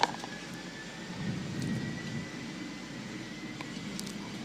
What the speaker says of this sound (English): rocketing down the runway